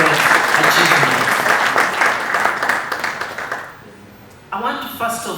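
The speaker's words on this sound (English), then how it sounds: "give a big round of applause" Loud, dense applause from a large crowd at the launch of Kampala's smart city system fills the room, fading briefly before another burst of clapping resumes.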